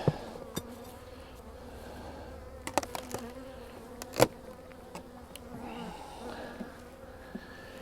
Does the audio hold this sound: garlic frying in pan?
no